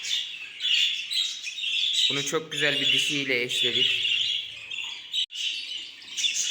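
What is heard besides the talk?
bird chirping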